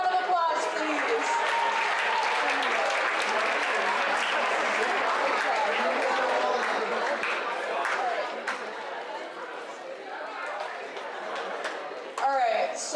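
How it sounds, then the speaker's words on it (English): Audience at a leadership summit applauding for several seconds, a dense crowd clapping mixed with chatter and voices that tapers off, then a brief burst of noise near the end. "Give everyone a round of applause"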